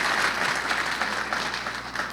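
Audience applause at a university president's State of the University address, a dense, steady wash of clapping filling the hall for a couple of seconds without any speech.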